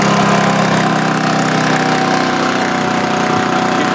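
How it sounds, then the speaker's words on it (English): A generator engine with a hole in its muffler runs steadily and loud throughout, a constant rough idling drone with a buzzy, slightly rattling exhaust edge. "So you guys are probably curious about the generator. Well, it's running okay."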